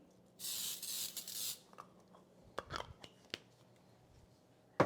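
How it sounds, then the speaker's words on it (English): A brief hissing burst of cooking spray onto a ceramic 9x13 baking pan, followed by a few light clicks and knocks of the pan being handled. "I'm gonna use a ceramic 9x13, like this, and I'm gonna spray it."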